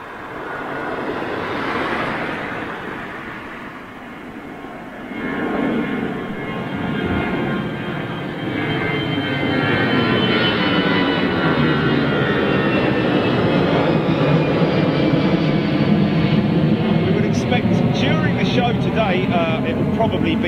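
A Boeing 747 approaching Gatwick Airport makes a broad jet roar that swells and holds steady and loud as it nears, with voices talking underneath.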